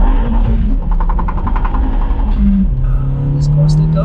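A turbocharged Opel Astra GSi engine with a K04 turbo roars and revs up loudly as it accelerates, with a rising whine and a brief high chirp near the end.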